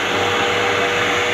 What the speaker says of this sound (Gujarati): ડ્રાયર બી આપ્યું છે.